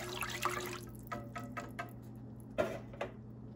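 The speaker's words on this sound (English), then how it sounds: "Give it a good whisk" A whisk stirring sugar into creamed corn in a pot, heard as faint, close scraping strokes in a loose, uneven rhythm over a quiet kitchen background.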